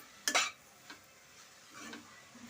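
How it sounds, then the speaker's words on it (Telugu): Soft scraping and clinking of a spatula stirring cabbage fry in a pan, a few faint strokes against a quiet, low background hiss. "ఇప్పుడు బాగా కలబెట్టుకోవాలి"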